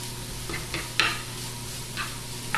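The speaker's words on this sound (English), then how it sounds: "Let's give that a swirl around in the butter and the oil" Garlic frying in a pan of butter and oil gives a steady low sizzle, broken by a few scraping stirs at intervals. No one speaks.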